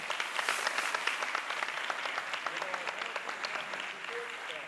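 A graduation audience at Mound Street Academy gives a round of applause, a dense, even patter of many hands clapping at moderate distance, sustained without pause and fairly soft overall.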